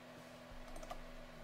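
Typing on a computer keyboard during an online typing test, a short burst of close, light key clicks over a steady electrical hum, with no voices.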